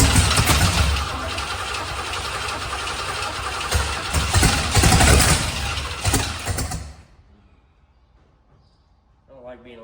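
A small-block Chevrolet engine in a rat rod runs loud and rough during a timing adjustment, then cuts out after about seven seconds, leaving near silence.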